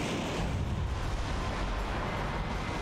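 Missile explosions in the Metal Wolf Chaos XD video game, a dense rumbling roar of blasts and booms, loud and unbroken for the whole stretch with no voices over it.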